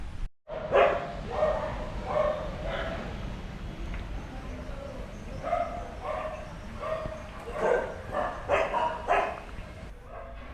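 Several larger dogs at a dog shelter in Phuket bark in bursts, a mix of deeper woofs and higher yips, fairly close and repeated over several seconds.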